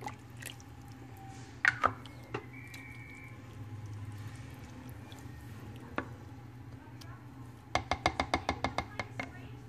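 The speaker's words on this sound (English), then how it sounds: "And now you want to mix all that together." Tuscan garlic chicken is stirred in a crockpot, with scattered wet squishes and scraping clicks, a low background hum, and a quick rhythmic run of ticking spoon taps near the end.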